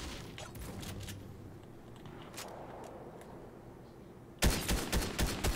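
Gunfire from the battle royale video game Fortnite: scattered distant shots over a steady background rumble, then a loud, close rhythmic burst of shots near the end.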